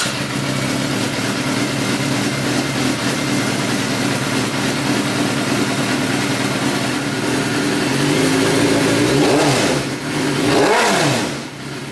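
A warmed-up Suzuki GSXR 600 sport bike, freshly fitted with a replacement fuel pump, idles steadily up close, then is revved twice in quick, rising-and-falling bursts near the end.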